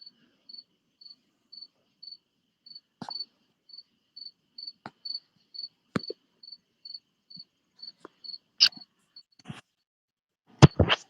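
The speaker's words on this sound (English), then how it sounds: "Yes, those are crickets." Crickets chirp steadily at night in a fast, even pulsing trill that runs throughout, with a few scattered clicks and knocks nearby.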